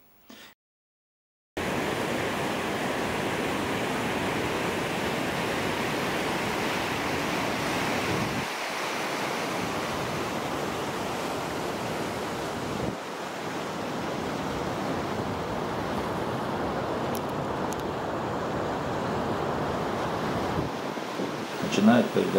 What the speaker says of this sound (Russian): Вечером слышим шум воды. Передвигаемся к сливу.